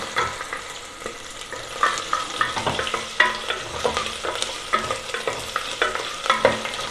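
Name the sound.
ginger and spices frying in pan for chicken soup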